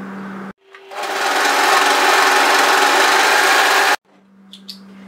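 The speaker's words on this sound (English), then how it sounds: "make sure you set your overlocker width to that before you get started" An overlocker stitches a fabric seam for a one-shoulder top, with its blade trimming the edge, running in a steady, loud, fast whir for about three seconds before stopping, then quiet handling of fabric.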